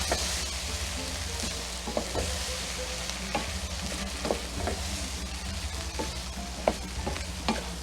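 Broccoli stirred in a hot pot for cream of broccoli soup, a continuous sizzle with repeated scraping knocks of the spoon against the pot at an uneven rhythm, close and fairly loud.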